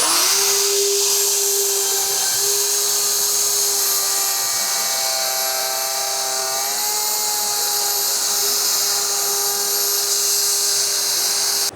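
A Mafell LO55 portable router spins at high speed while cutting a groove in wood, a loud steady whine with a high tonal hum that shifts slightly as the bit bites.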